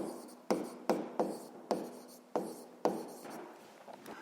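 Writing by hand in a notebook during a physics lesson, heard up close as six or seven crisp, separate strokes with short scratchy tails, unevenly spaced and fairly soft in a quiet room.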